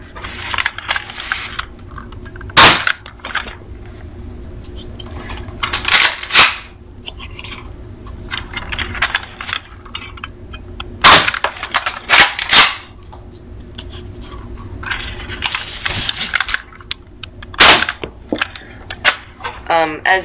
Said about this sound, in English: I'm just going to show you a quick shooting test right at the wall over there